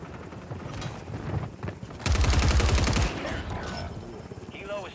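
Gunfire in a video game shooter: a loud, sustained automatic burst of about one second rattles out amid quieter in-game sounds.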